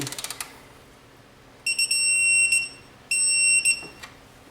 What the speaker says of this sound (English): Long beep.